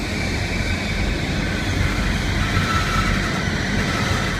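A Great Western Railway train pulling out of Slough station, heard from inside as a steady loud rumble and roar of wheels and motors with no voices.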